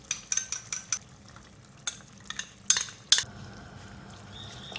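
A spoon scrapes and clinks against a pan as yogurt is stirred into spiced mince for capsicum keema, with a quick run of sharp clicks, then a few more strokes and a faint sizzle, no talk.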